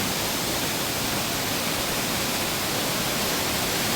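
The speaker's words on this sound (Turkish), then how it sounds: "Böyle güzel bir şelale var burada." A waterfall at Yedideğirmenler Nature Park gives off a steady, dense roar of rushing water, broadband and unbroken throughout, heard close with no voices over it.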